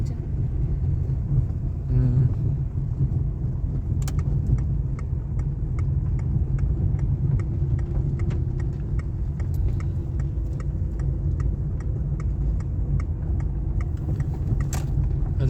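A car engine hums steadily and moderately loud from inside the cabin during a driving lesson, a low, even drone with faint ticking clicks and a short voice at the start.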